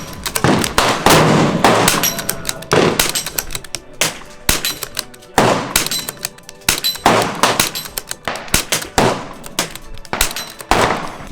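A scoped rifle emptying a magazine outdoors, a string of loud sharp gunshots at irregular intervals, each with a brief echoing tail, no talking.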